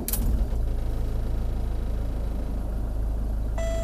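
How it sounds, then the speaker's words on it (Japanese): A camper van's engine catches with a brief burst, then settles into a steady low idle; a faint electronic tone chimes near the end. "エンジンスタート"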